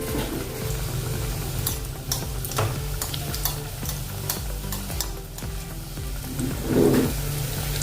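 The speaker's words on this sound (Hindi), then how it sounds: "तेल गरम हो गया है। अभी इसमें डालेंगे अपना नाश्ता।" Methi wheat-flour breakfast snack pieces sizzle and crackle steadily in hot oil, a continuous close frying hiss with occasional stirring and scraping knocks and a brief louder burst near the end.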